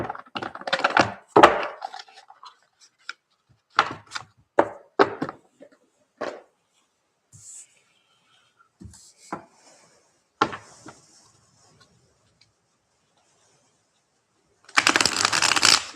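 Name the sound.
tarot cards being taken out and handled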